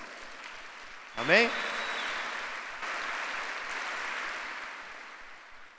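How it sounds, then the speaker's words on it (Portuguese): A congregation at a Sunday church service breaks into sustained applause for Jesus, broad clapping that swells and holds for several seconds while a preacher's voice rises briefly over it near the start. "Dá um aplauso a Jesus."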